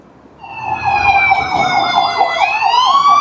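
Fire brigade and SAMU ambulances arrive at an accident rescue drill in a city centre, their sirens wailing and rising in pitch as they approach, loud and close, with engine rumble underneath and no talk.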